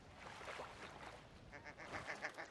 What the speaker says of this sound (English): Freaking goose.